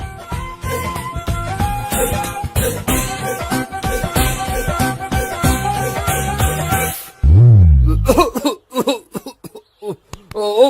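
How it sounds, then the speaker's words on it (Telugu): Music plays for several seconds, then cuts to a loud, harsh burst of coughing followed by a few shorter, broken coughs close to the listener. "ఈ దగ్గు నా దగ్గర దగ్గేవు కాబట్టి సరిపోయింది"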